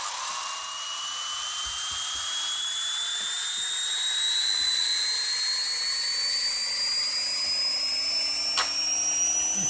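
A turbocharged VTEC Honda Civic engine revs on a dyno in the Pixel Car Racer video game, a high synthetic whine climbing steadily in pitch, loud and sustained throughout.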